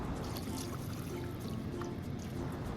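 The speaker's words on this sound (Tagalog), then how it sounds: "Bali, lalagyan na lang natin sila ng tubig." Water is poured into a pot over okra and bitter gourd, giving a steady, even splashing rush that carries on throughout.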